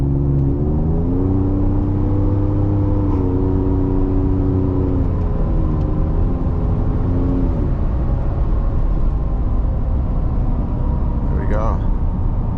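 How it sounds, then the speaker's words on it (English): A lifted Ford F-150 in sport mode accelerates on a night road, its engine note climbing through stepped gear changes over a steady tyre and road rumble, heard from inside the cab. "I'm gonna put it in sport mode and give it some acceleration."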